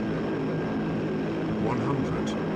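A propeller airplane touches down in the game Turboprop Flight Simulator, its engine holding a steady, loud drone with a faint tonal whine.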